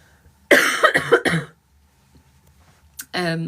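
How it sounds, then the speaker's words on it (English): A close burst of several harsh coughs in quick succession, then a pause with faint sounds and another short cough-like outburst. "Sorry about the coughing."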